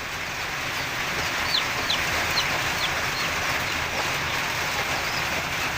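Newly hatched chicks peep in short high chirps, several in a row over a constant loud background whir.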